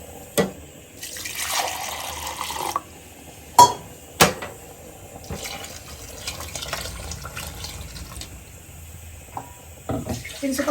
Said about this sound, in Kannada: ನೀರು ಜಾಸ್ತಿನೇ ಹಾಕೊಳ್ಳಿ